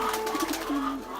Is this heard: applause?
no